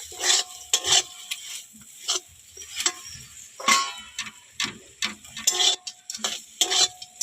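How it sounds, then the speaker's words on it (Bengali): A spoon scrapes and stirs fish-head and taro-leaf ghonto in a pan, with irregular rasping strokes and small ticking knocks against the metal, close by and with no talking. "এবার নেড়ে চেড়ে নামিয়ে দিচ্ছি"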